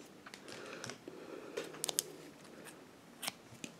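Scissors snip through a yarn tail on a crocheted baby doll romper, several close, sharp clicks in a quick cluster midway and another near the end over faint rustling, with no talk.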